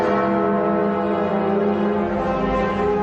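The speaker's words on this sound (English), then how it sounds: "a series of bells was needed to toll the passing time, with an enormous central bell ringing on the hour" Big Ben, the enormous central bell of the clock tower, tolls the hour with a loud, deep sustained hum whose rich overtones ring on without fading.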